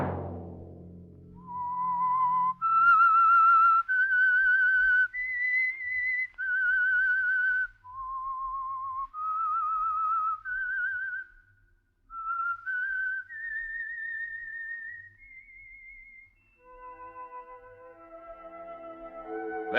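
Whistled signature tune of The Whistler, a 1948 radio mystery program: a solo human whistle carries a slow, eerie melody of long held and gliding notes, clear and close over near silence, ending as a soft musical chord enters.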